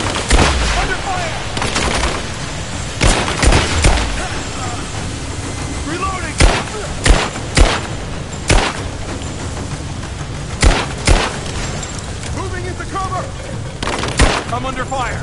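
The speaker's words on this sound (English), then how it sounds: "I'm under fire." A Rise of the Tomb Raider firefight rattles with sharp gunshots, bursts and single cracks spread irregularly across the scene, mixed with raised voices in the background.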